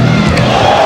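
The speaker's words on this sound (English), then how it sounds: "you can hear the large contingent of Knicks fans, transplanted New Yorkers, here at the Forum" A large contingent of New York Knicks fans cheering at the Forum during a 1997 NBA game against the LA Lakers, a dense, loud, continuous crowd roar filling the arena.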